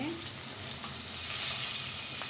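Pieces of fish fry in hot oil for a Bengali dish with red leafy greens, giving a continuous bright hiss and sizzle with faint scraping, no talk over it.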